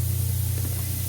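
Penetrating oil sprays from an aerosol can onto exhaust manifold mounting bolts, a close, steady hiss that holds evenly without a break.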